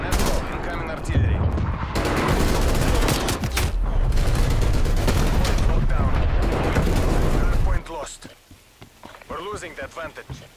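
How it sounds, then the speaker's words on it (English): Incoming artillery strike in Call of Duty Cold War Hardpoint on the Echelon map: a long barrage of heavy booms and rattling blasts, loud and continuous for several seconds, then cutting to quieter game sounds with announcer voice lines. "Incoming artillery."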